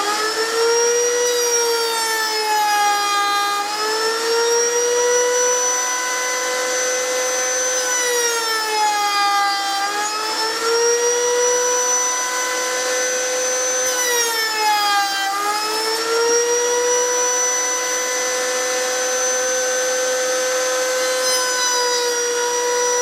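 Hegner machine shaping wooden table legs with dust suction running: a loud, continuous whine with tonal pitch that sweeps down and back up every few seconds as the cut loads and eases, heard close and alone.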